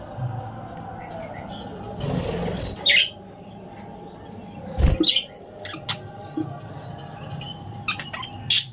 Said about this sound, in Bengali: এটা দেখার জন্য চলে আসলো বাবা পাখি।